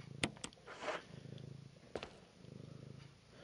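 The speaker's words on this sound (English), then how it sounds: "hello, baby kitty. Are you here for snuggles?" A cat purrs softly and steadily up close, a low rhythmic rumble broken by a few brief clicks and rustles.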